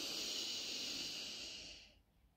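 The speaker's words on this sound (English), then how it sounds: "Let's do it together. Breathe in" One slow, deep inhaled breath hisses close to the microphone for about two seconds, then fades out.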